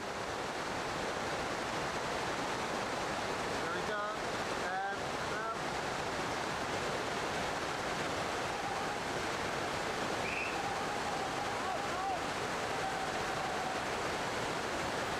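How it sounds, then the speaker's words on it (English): Constant rushing water from a 5-metre waterfall at a glacier roars steadily throughout, a dense broadband wash with a few faint higher tones surfacing briefly. "No difficulty with the 5-metre waterfall."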